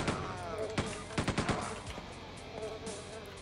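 A machine gun firing in Quake on the custom map Ment Base, a quick rattling run of shots over a steady background hum, loud and close.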